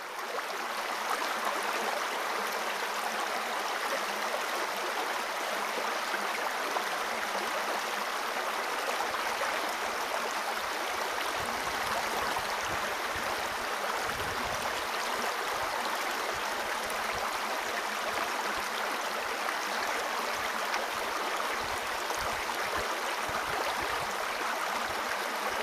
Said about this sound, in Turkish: Karlı dağlar ve yaylalardan koşarak akan sular, belde sınırının başladığı yer olan Pangar Şelalesi'nde hoş geldin